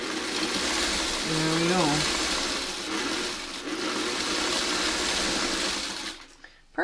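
A sewing machine stitches a quilt seam in a fast, continuous whirring run up close, then stops near the end, when a voice briefly speaks.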